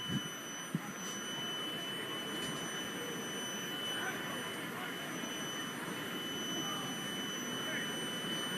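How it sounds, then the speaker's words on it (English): A fire alarm at Steinbrenner Field during a baseball game sounds as a steady, thin high-pitched tone. It continues without a break over a broad wash of stadium crowd noise. "I think some kind of fire alarm is going off here at Steinbrenner Field."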